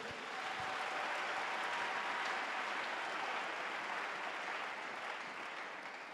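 A church congregation applauds steadily throughout, a dense, even wash of many hands clapping at moderate loudness with no pauses.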